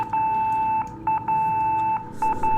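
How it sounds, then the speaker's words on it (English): Electronic beeps in the video game Fatal Frame 4: Mask of the Lunar Eclipse, at one steady pitch, a long tone followed by several shorter ones in an uneven pattern, clear and close. "Oh wait, this has started beeping."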